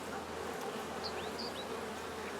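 Honey bees swarm over a hive frame as they build comb on fishing line, giving a steady, soft buzzing hum with a few brief higher-pitched whines from individual bees passing close.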